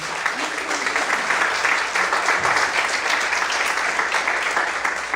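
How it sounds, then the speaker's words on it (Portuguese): A church congregation applauds in a sustained, even wash of clapping from many hands that holds steady for several seconds. "Você pode aplaudir o Senhor por isso."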